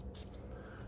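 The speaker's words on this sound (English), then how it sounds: "let's spray this one because it is so darn good" A fragrance atomizer fires a single short hiss of spray near the start, close and brief, with a quiet room tone behind it.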